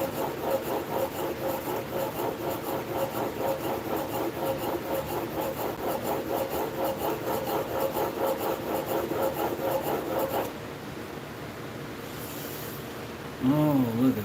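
A hand plane on a bench is drawn in steady repeated strokes across wood, giving a close, continuous rasping scrape for about ten seconds, followed by a softer pause and a brief voice.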